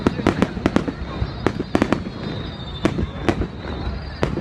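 Fireworks burst at a 30 April celebration in Cua Lo, a string of sharp irregular explosions of varying loudness, some close together, over constant crowd murmur and background talk.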